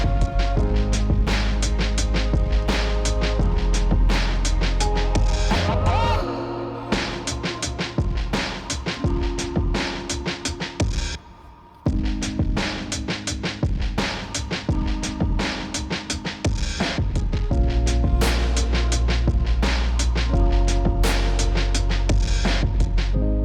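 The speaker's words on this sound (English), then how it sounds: "fire up the engine and let's see if our misfire troubles have been sent packing" A car engine idling with a cylinder 2 misfire after coil packs, plugs and injectors were swapped, a loud, uneven, lumpy running note with irregular stumbles, continuing alone with a brief dip midway.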